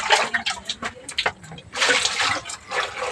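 Tap water runs over feet being washed outdoors after walking through mud, a steady splashing and spattering stream close by that surges and eases over a few seconds, with no talk.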